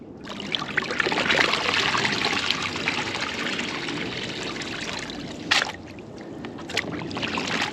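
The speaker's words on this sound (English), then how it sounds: "You flip it upside down and you smack it on the water like this, and it frees up any gold that might be trapped in that miner's moss" Water sloshes and splashes steadily as miner's moss from a sluice box is flipped upside down and smacked on the water, with a couple of sharper slaps standing out near the end.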